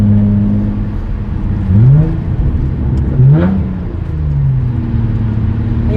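Hyundai Genesis Coupe 3.8 R-Spec with a modified engine pulling hard in a street race, a loud close engine note rising through the revs with two quick gear-change dips before climbing again, no talking.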